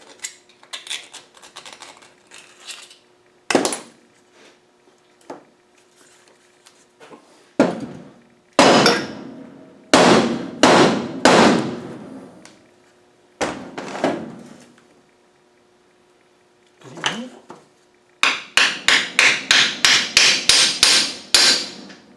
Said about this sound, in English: Let's go around it with a small screwdriver and see if we can get that rust out.